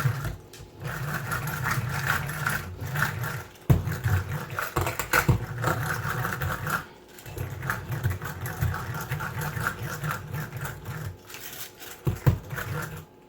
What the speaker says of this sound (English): I also have this egg beater thing that works pretty good.